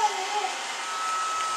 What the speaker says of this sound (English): It's the robot vacuum cleaner.